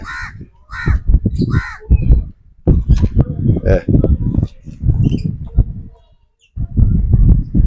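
Colourful parrots kept in cages hung in a banyan tree give loud, harsh squawks in a quick cluster at the start, then a person talks over fainter calls.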